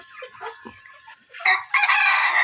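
Native free-range farm chickens clucking and calling, with a rooster-like crow swelling loud near the end; several birds close by, no talking.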